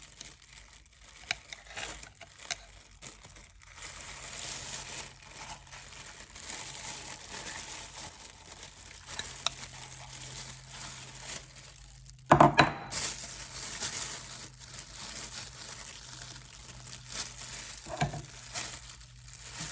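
Cake batter for a white chocolate and peanut cake is scraped into a plastic piping bag, giving crinkling plastic rustles and soft wet squelches up close, with a sharp crackle of the bag partway through.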